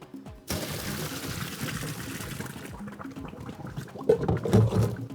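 Hot pasta and vegetables being drained, a steady pouring rush of water splashing into a colander for several seconds, growing louder toward the end.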